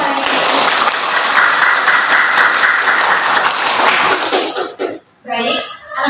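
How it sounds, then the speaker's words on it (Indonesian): Classroom of first-grade children applauding together for all the groups after a maths lesson, a dense, loud burst of many small hands clapping for about four seconds before breaking off into scattered claps and a voice. "Mari beri tepuk tangan untuk semua kelompok hari ini."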